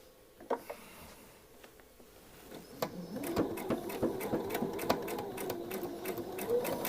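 A sewing machine stitches a dress seam, starting with a few isolated clicks, then settling into a steady, rapid mechanical rattle of the needle that runs close and clear to the end.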